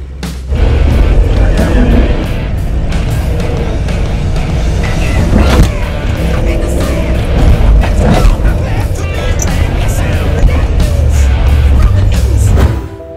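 A Land Rover 4x4 grinds off-road through mud in the Auvergne, its engine loud and steady, with mechanical creaks and clunks throughout and faint voices in the background.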